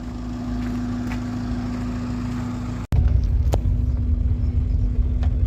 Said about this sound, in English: This is my last day driving my Corolla.